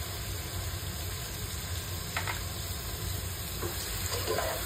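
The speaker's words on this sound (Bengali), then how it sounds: "এখন চিংড়ি মাছগুলো একটু নেড়ে চেড়ে একটু ভাজা" Shrimp fry in a pan with a steady, even sizzle, and a few brief scrapes mark stirring partway through.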